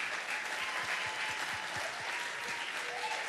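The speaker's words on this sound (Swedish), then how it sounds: "En superapplåd för musikerna för de är så himla duktiga" An audience at a university graduation concert in Örebro applauds the musicians with steady, dense clapping that fills the room and holds evenly throughout, with no voices standing out.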